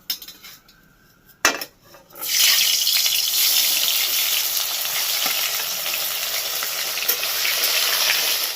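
Shrimp and soya kofta balls go into fully heated oil in a kadai: a few utensil clinks come first, then a loud, steady, close sizzle starts and runs to the end.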